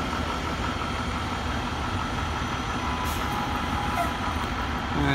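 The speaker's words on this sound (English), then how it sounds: "Brand new KME engine 47." A brand new FDNY KME fire engine, Engine 47, idles as it leaves quarters: a constant, close diesel rumble with a steady mechanical hum and a few faint higher clicks and squeaks near the end.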